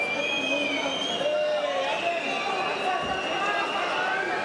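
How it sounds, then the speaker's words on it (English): Vocal crowd at an OKTAGON 92 MMA fight between Nafuka and Mudroch, a steady, loud wash of jeering and chatter from the arena audience, with commentators talking over the continuous crowd noise. "they're still being vocal, the crowd"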